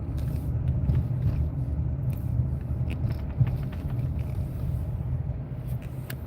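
A car drives through busy Friday commute traffic, a low steady road rumble and engine drone heard from inside the cabin, with faint ticks and one small thump.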